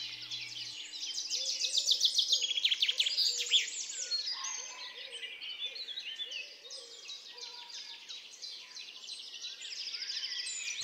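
Springtime birds sing and chirp in a busy overlapping chorus, bright warbling phrases strongest early on, then continuing more softly with a low steady hum underneath, no talking.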